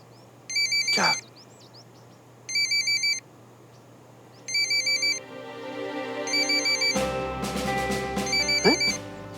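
A phone ringtone chirps in short repeated electronic bursts, four rings spaced about two seconds apart, heard over quiet room tone while background music swells in partway through.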